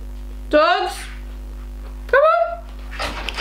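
Two sharp dog barks a couple of seconds apart, slightly muffled and distant, over a steady electrical hum, followed by faint rustling.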